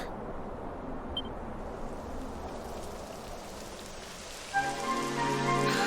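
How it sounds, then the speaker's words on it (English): Steady rain in the video game Dragon Quest XI S: Echoes of an Elusive Age patters down in a continuous hiss, then a tonal musical layer swells in near the end. "It would have to go and start raining, wouldn't it?"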